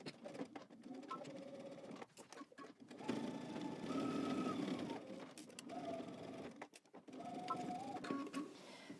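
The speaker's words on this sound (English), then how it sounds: "we're going to go to the sewing machine. We're going to stitch using 5/8 of an inch seam allowance" A sewing machine stitches a seam with a 5/8-inch seam allowance on a collar band, running in several bursts with brief pauses and backstitching, whirring steadily and close by without talk.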